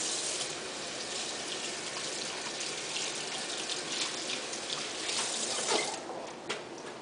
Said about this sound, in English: While I do that, I'm going to wash my hands.